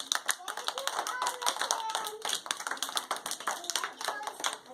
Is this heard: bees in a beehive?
no